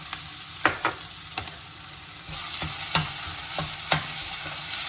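Ginger, chili and garlic paste frying in hot oil with cumin seeds, a steady close sizzle broken by several sharp clicks of a spoon stirring against the pan.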